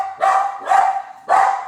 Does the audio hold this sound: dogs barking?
yes